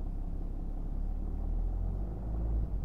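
A Stage 2 BMW car pulls away as the driver presses the gas, a steady low engine rumble from inside the cabin that builds slightly toward the end, with no talking.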